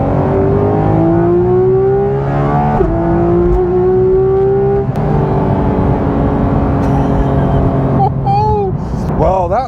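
A Porsche 911 GT3 RS (991.2) engine screams through rising gears, the pitch climbing steadily with brief drops at each shift, loud and close, ending in sharp crackles.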